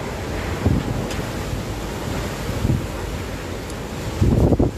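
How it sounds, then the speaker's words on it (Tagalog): Strong gusting wind from Super Typhoon Goni roaring steadily, with heavier rumbling bursts now and then, loud and close to the microphone. "mararamdaman na naman natin yung ano, yung malakas na hangin ni Bagyong Uri"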